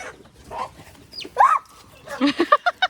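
Chickens cluck in short bursts, a few squawks and then a quick series of clucks, close by with faint talk at the start.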